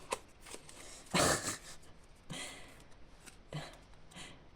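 Oracle cards shuffled for a card draw, heard as several soft riffling bursts, the loudest one near the start and quieter ones following, close and fairly quiet.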